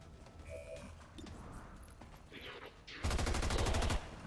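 Gunfire in the video game XCOM 2 Long War of the Chosen, a sudden loud burst of rapid automatic shots lasting about a second after quieter game ambience.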